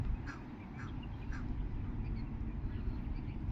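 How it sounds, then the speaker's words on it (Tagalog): Ducks quack in a few short bursts at moderate distance over a low, steady rumble of background noise. "Tapos yung mga pato andun. Ayun yung mga pato."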